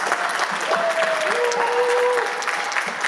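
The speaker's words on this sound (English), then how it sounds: "We're going to give a big round of applause." An audience at a community gathering of next-generation Korean-American leaders breaks into sustained applause, loud and dense, with a few voices calling out over the clapping.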